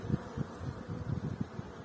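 Low, steady buzzing of many honey bees swarming close around a hive, pulsing slightly in a continuous drone with no talking.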